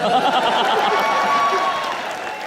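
A studio audience on the comedy show Comedy Nights Live claps loudly and steadily for a couple of seconds, then eases off slightly at the end.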